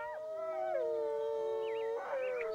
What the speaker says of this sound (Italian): Si sono radunati con un ululato proprio davanti a noi